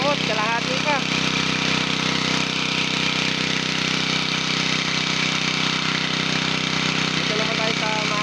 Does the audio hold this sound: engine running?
yes